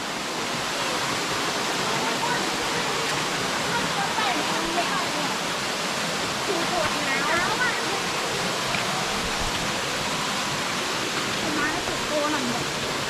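Saeng Chan waterfall (Long Ru waterfall) in Khong Chiam gives a continuous loud rushing of falling water, steady throughout, with faint voices now and then beneath it.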